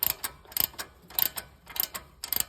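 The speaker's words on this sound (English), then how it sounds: "put some tension on this 19 millimeter ball joint nut and go ahead and finish tightening it down." A ratchet tightens a 19 mm ball joint nut during a level kit install on a 2024 Toyota Tundra, giving close, crisp bursts of rapid clicks repeated in five quick strokes, with no talking.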